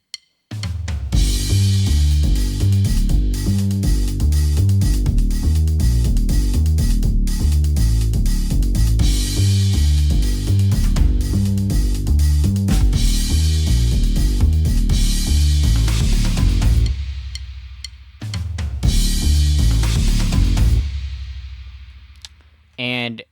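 A loud, full drum groove plays steadily with busy tom fills, briefly dropping out near the end before a final burst of hits.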